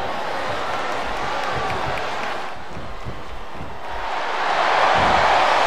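A large arena crowd in a wrestling video game, Smackdown vs. Raw 2008, cheers and murmurs continuously, swelling louder toward the end, with a faint announcer-like voice mixed in.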